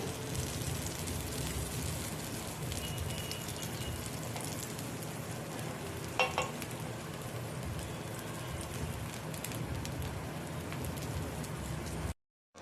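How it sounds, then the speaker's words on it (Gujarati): Raw mango rosti roasts in butter in a pan over a low flame with a continuous, even crackling hiss. A brief clink sounds partway through, and the hiss cuts off at the end. "ધીમા તાપે આપણે આને શેકાવા દઈશું"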